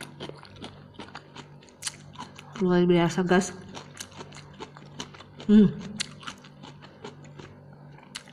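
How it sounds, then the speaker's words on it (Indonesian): Crunchy candied papaya is bitten and chewed with crisp crackling crunches, a denser burst in the middle and another shortly after, close to the mic, with brief talk and scattered small clicks around them. "Bunyinya kriuk-kriuk-kriuk-kriuk kan"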